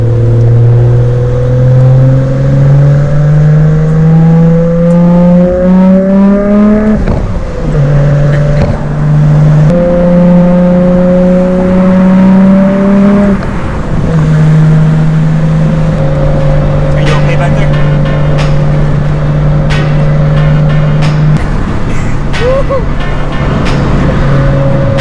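Nissan Skyline R32 GTR on the freeway, engine droning loud and close from inside the cabin, rising through gears and then holding a steady cruising hum under wind and road noise, with occasional voices.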